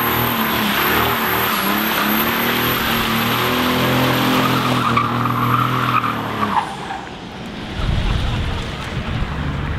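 A 707 bhp Trackhawk engine roars steadily while tires squeal in a loud sustained burnout, then the noise cuts off abruptly and the engine revs low.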